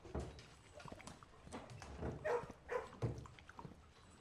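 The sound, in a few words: dogs barking in the Blue Prince video game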